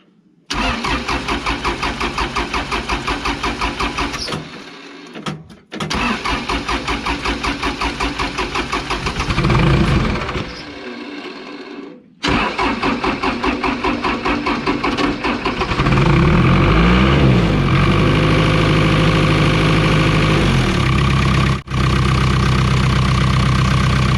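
A Case 450C bulldozer's engine cranks and catches after an oil change, breaking off briefly a few times before settling into a loud, steady, rumbling idle heard up close with no voices.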